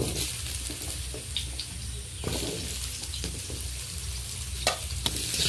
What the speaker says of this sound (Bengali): সরষা তেলেই রান্নাটা করব, আপনারাও সরষা তেলে করবেন। সরষা তেলে করলে রান্নাটা বেশ ভালো লাগে খেতে। তো আলুগুলো আমি ভেজে নেব।